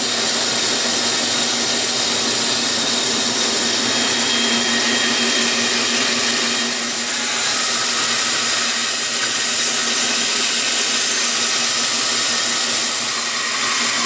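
A power tool cuts the end blocks of a violin construction fixture, giving a steady, loud whirring whine that runs unbroken throughout.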